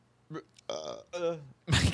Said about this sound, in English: Get your burps out.